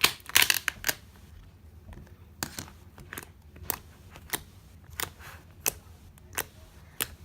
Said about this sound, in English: Make very nice clicking noises.